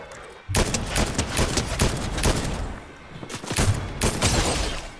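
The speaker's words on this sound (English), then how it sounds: "Headshot, hit him for 80." Rapid bursts of gunfire from Fortnite, several loud volleys of shots in quick succession with a short lull in the middle, close and dominant with no talk over it.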